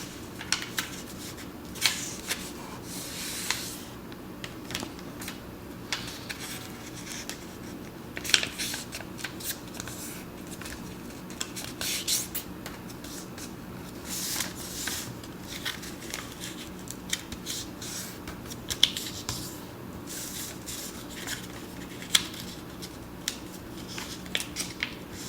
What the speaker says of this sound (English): I'm going to fold these corner pieces into the middle